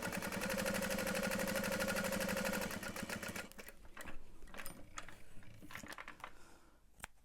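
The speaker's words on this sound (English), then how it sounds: "I'm gonna do 3 quarter inch top stitch. along either side." A sewing machine runs a fast, even rattling top stitch along a bag for about three seconds, then stops, followed by faint clicks and handling noises nearby.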